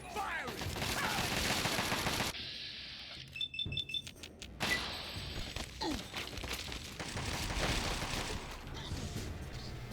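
Enemy gunfire in Fallout 3, with bursts of rapid shots and heavy thuds close by and fairly loud over game music and effects, plus a short gap of sparse pops midway.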